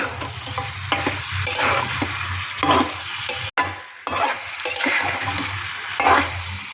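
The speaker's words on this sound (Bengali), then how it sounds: "মশলাগুলোর সাথে মাংসটাকে খুব ভালো করে কষাবো" Chicken meat is stir-fried hard with spices and Kashmiri red chilli powder in a kadai, loud steady sizzling with scraping stirs, broken by a brief silent gap midway before the frying resumes up close.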